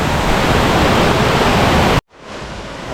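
Anyar Waterfall in Bali pours as a dense, loud, continuous roar of falling water that cuts out abruptly, then returns more softly.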